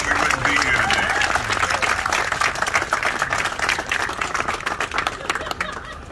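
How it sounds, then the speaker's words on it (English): A Hall of Fame crowd applauds the inductees with loud, thick clapping and some cheering voices mixed in, sustained throughout. "let's give these people a round of applause."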